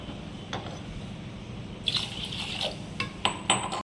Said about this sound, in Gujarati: બધું જ સારી રીતે મિક્સ કરી 2 પાણીથી સારી રીતે તેને ધોઈ લઈશું.